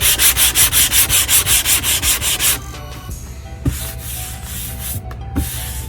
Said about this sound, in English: Now we'll sand that down with 80.